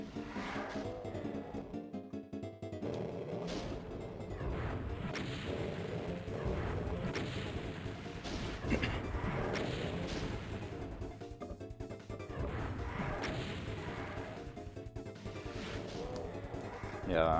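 Doom shelling from Hell Knights and Revenants on the Sunlust map 29 pistol start, heard as a dense, continuous barrage of crashing impacts and whooshing blasts mixed with game music, loud and steady throughout.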